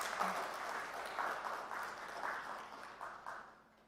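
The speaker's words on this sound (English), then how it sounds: "A better round of applause" Audience applause at the Circular Economy launch event in Nairobi, a modest round of clapping in loose bursts that thins and fades toward the end, moderately distant in a hall.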